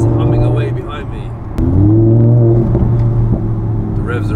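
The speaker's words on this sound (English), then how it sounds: "in the hot seat of this Hurcan Spyder, the Hurcan is on the move, and that V8 engine." A Lamborghini Huracan Spyder's V8 engine hums loudly nearby, then revs up sharply partway through and holds higher, with a voice speaking over it.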